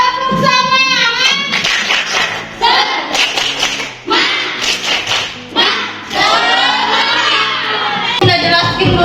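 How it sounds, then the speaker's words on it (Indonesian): Classroom group doing a rhythmic spirit clap, a crowd of children clapping and shouting together in bursts, with pauses and voices mixed in throughout. "Kita tepuk semangat dulu. Tepuk semangat."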